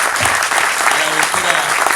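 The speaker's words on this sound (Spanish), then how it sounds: "aplauso para Fernando" An audience claps for a speaker at a book presentation event; steady, full applause with a voice briefly audible underneath.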